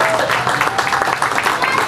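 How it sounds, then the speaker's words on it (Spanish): Audience applause at a children's rock show on Father's Day, a steady wash of clapping with crowd voices mixed in, loud and continuous throughout. "Ese aplauso para el rock para chavitos"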